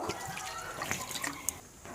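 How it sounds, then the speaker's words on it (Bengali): Water pours into a kadai holding cauliflower, a soft, continuous splashing trickle heard close and fairly faint, with a small drip near the end. "এবার আমি জল দেব।"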